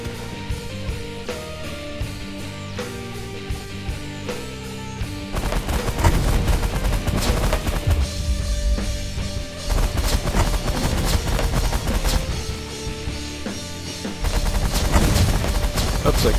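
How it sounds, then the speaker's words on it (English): Rapid gunfire bursts and crashing impacts, including a missile hit, from the space strategy video game The Last Federation, loud and dense over a layer of game music, intensifying partway through. "got hit by a missile there."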